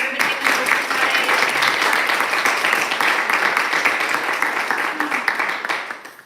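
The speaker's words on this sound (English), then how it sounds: "Can we applaud one more time for everybody in the group tonight?" Audience applause fills the room for the poetry readers at an evening reading, a dense, steady wash of clapping lasting several seconds before gradually thinning at the end.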